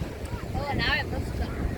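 Steady rushing wash of sea waves on a beach mixed with wind, with a faint voice briefly rising above the noise.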